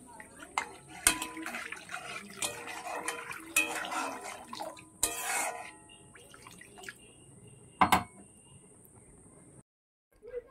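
Water is poured into frying spices in a cooking pan, giving a sizzling, splashing spatter with sharp clicks and clatter of utensils, up close and uneven.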